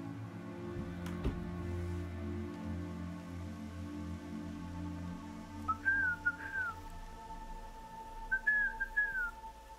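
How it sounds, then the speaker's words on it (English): Short melodic whistles in Horizon Zero Dawn, two brief warbling phrases sounding clearly over a quiet ambient game background with low hum. "Was the whistling like opening a gate for an outcast?"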